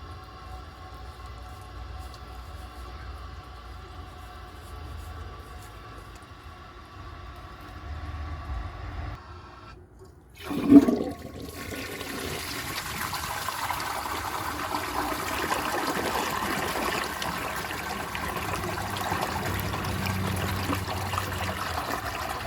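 A 1960 Crane Oxford siphonic toilet flushes with a sudden loud whoosh, then a long steady rush and trickle of refilling water that continues for many seconds after the initial surge.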